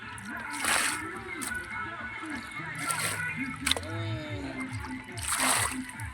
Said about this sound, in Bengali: আর জল বেশি তাই আমাকে ছেঁচতে হচ্ছে ভাই।